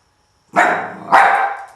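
A dog barks twice during a canine training session, two loud, close barks about half a second apart with no one speaking.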